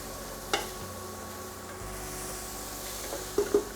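Garlic cloves simmer in a reducing pork and mushroom sauce, giving a quiet, steady low sizzle with a couple of faint utensil clicks near the start and end.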